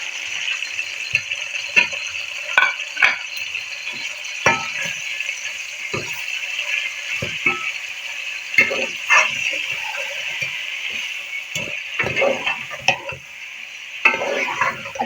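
About 1.25 kg of goat meat frying in ghee hisses continuously, with frequent clinks and scrapes of a stirring utensil against the pot, close and steady, without any talk.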